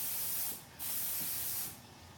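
Paint spray gun spraying automotive paint, two long bursts of bright hissing spray separated by a brief pause, close and loud, with no talking.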